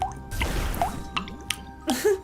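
Water collecting in the Wytchwood video game: a loud, close burst of wet dripping and squishy splashes, followed by a few separate bubbly plops.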